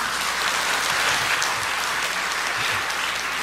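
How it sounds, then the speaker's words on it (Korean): A congregation claps in a church during a Sunday evening worship service, steady applause filling the hall before a sermon, dense and continuous with no voices over it. "시작도 하기 전에 박수를 받으니까"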